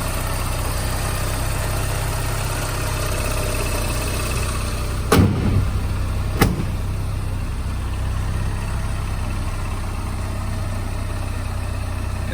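A 1989 Porsche 944S2 idles steadily after a cold start, a constant low engine drone throughout with two brief sharp clicks or knocks partway through.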